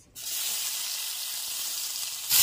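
Chopped onion sizzling in a little hot oil in a wok, a steady bright hiss starting abruptly and holding evenly, rising louder near the end.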